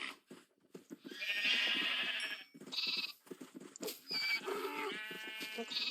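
Sheep in the video game Minecraft bleat repeatedly in short, nasal calls that overlap at close range, with no talking over them.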